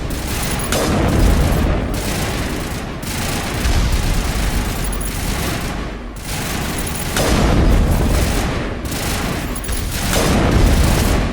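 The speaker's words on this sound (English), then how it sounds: "I love that my sniper is one-shot killing everything these days" Sniper rifle fire and fights against turrets in the video game Mass Effect: heavy, rolling bursts of booming gunfire and explosions, loud and nearly continuous, with brief dips between volleys.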